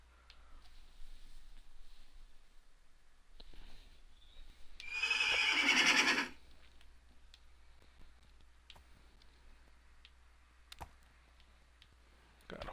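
A horse in Minecraft on Xbox One Edition gives a single loud whinny of about a second near the middle, standing out against a quiet game background with faint clicks.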